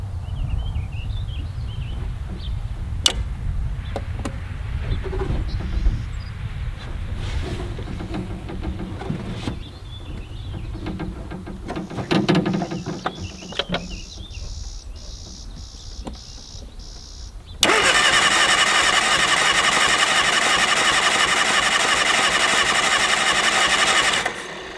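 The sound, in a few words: Mini Moke engine being cranked and started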